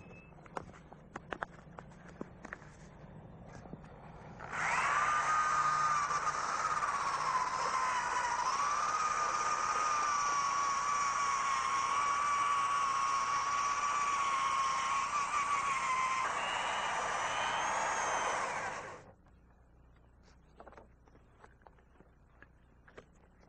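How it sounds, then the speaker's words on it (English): A power drill with a sanding attachment sands loose paint and rust off car bodywork, whining steadily for about fifteen seconds, loud and close, its pitch wavering slightly, then stops, leaving quiet room noise. "take our drill and sand out the loose paint and rust"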